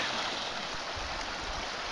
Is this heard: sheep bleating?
no